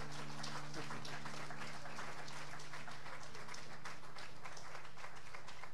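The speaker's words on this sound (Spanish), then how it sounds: "Denle un aplauso a Cristo ahí, celébrelo." A church congregation applauds in celebration of Christ during a service, steady dense clapping from many people filling the space, with a low sustained hum beneath.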